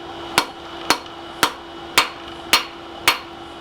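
Six sharp metallic blows from a treadle hammer striking a hammer eye punch, evenly spaced about half a second apart, each ringing briefly before the next, close and loud with no talking.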